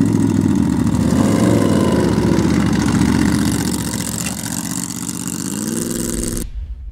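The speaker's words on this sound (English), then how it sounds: "It's a CBR 1100 Blackbird motor." A buggy powered by a Honda CBR 1100 Blackbird motorcycle engine idles loud and close with a steady, rumbling tone that dips slightly midway, then cuts off abruptly near the end.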